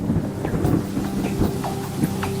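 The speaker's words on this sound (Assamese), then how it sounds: "আকৌ এবাৰ আহিল বৰষুণ জাক।" A steady night rain shower patters nearby in a soft, continuous wash with faint low rumbles of thunder, and no one speaks.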